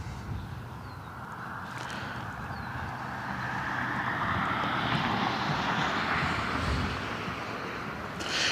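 An Aer Lingus Airbus A321 XLR jet departs Cleveland Hopkins for Dublin, a broad, steady engine roar that swells slightly and holds loud throughout, with no voices.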